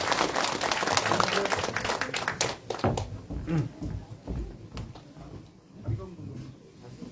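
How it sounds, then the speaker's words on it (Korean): Warm applause fills a press conference room for a mayoral candidate, dense clapping at first that thins and fades after a few seconds as voices and murmurs take over. "여러분 다시 한번 우리 뜨거운 박수 보내주시기 바랍니다"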